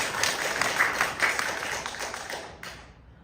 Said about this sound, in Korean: 박수 치려면 크게 치세요.